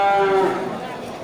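A Simmental cow lets out a single loud, drawn-out moo at a busy animal market, the call fading into crowd noise.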